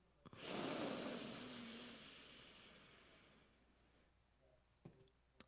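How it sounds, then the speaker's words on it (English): A single sharp, strong inhale through the nose, close and breathy, swells quickly and then fades gradually over a few seconds in a quiet room, followed by small faint clicks. "In one stroke, inhale"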